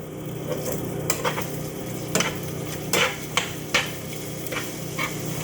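Spoon burgers cooking in a pan give a steady low sizzle broken by sharp metallic scrapes and clinks of a utensil against the pan, about ten in irregular rhythm, close and fairly loud with no talking.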